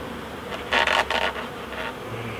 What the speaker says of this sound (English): They'll be in there in a minute, all them bees.